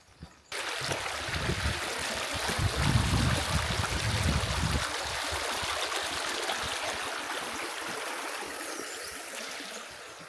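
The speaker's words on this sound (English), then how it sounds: "I can hear the water running." A clear stream feeding Lake Huron runs beneath a trail bridge on Drummond Island, giving a steady, close rushing and trickling wash that starts abruptly and holds throughout.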